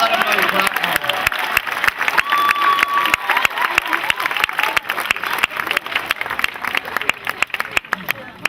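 Crowd at a football barbecue clapping steadily for several seconds, a dense, even patter of many hands with murmuring voices mixed in.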